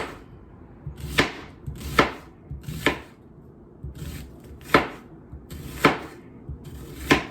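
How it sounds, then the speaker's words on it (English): An onion being chopped into half rings on a cutting board, sharp knife strikes landing in loose pairs and clusters about once a second, close and crisp with soft slicing between them and no speech. "I chop you my onion in half rings"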